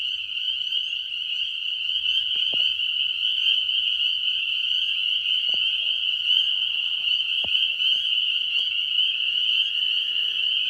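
Dense chorus of spring peeper frogs calling continuously at night, a steady high-pitched peeping that fills the whole stretch evenly, with a few faint clicks and knocks nearby.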